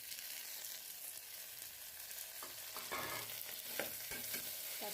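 Tomatoes fry in a pan over already-browned onions, a faint, even sizzle with a few soft scraping and tapping stirs toward the end.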